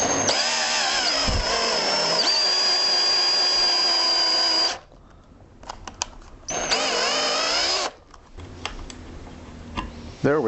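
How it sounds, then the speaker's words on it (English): A power drill bores hard maple plugs in two sustained high whining runs separated by a short pause, with clicks and handling noise after each run. "I can do it with the hand drill too"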